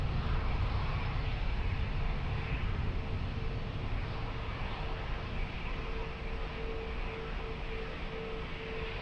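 Airplane taking off on runway 20 at Lisbon Airport, a steady broad engine roar heard from a distance that holds at a constant level throughout.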